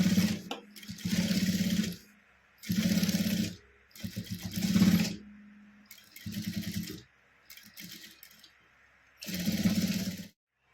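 A sewing machine top-stitches a cloth bag in several bursts of whirring, each lasting a second or two and separated by short pauses. The motor hums loud and close throughout.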